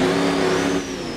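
In a video game, a worn-out car's engine revs in a short, loud burst that holds steady and then dips slightly, heard alone with no speech.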